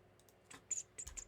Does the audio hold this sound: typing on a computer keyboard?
yes